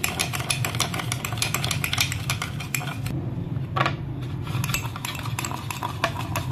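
A spoon clinks rapidly against the sides of a cup as instant coffee is stirred with hot water, a steady, continuous metallic tinkling with a brief pause partway, over a low background hum.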